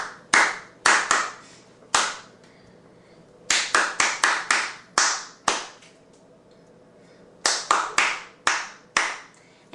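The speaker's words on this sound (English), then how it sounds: "or clap this rhythm" Bare hands clapping a sight-reading rhythm card, sharp close claps in short phrases with irregular note lengths, separated by brief pauses, with no voices.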